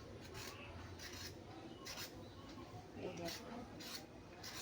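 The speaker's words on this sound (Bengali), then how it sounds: "আর এই প্রত্যেকটা পটল আমি এই একই রকমভাবে চেঁচে নেবো" A knife scrapes the green skin off pointed gourds (potol), giving a soft repeated rasping close up at low volume, with short strokes recurring in an uneven rhythm.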